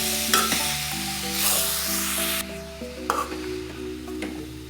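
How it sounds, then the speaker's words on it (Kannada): Tender jackfruit palya frying with masala sizzles steadily in a pan while a spoon stirs and scrapes it in short irregular strokes, close and loud, with no talking. "ಮಸಾಲೆ ಎಲ್ಲ ಸರಿಯಾಗಿ ಹೊಂದಿಕೊಳ್ಳುವಂತೆ ಮಗಚಬೇಕು"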